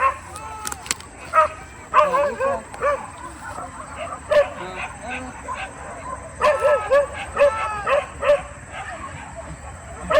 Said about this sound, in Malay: Atau anjing awak tu?